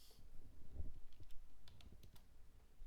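Fingers type on a computer keyboard during a coding session, producing a quick, irregular run of soft, close key clicks at moderate volume, with no one speaking.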